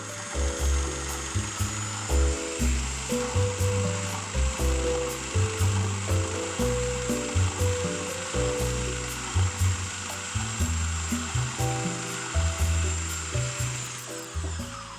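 A kitchen food processor whirring in short, regular pulses, each burst a loud motor whine with a rattling blade tone, repeating steadily with no talk.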